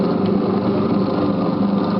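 A repaired single-phase electric motor on a bench grinder runs at about 1,500 rpm with a steady, even hum and slight vibration, unchanging throughout with no voices.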